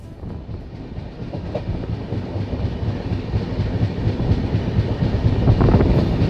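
New Delhi to Malda Town Express train runs steadily, with loud rumbling carriages and rhythmic clickety-clack wheels building slightly in volume.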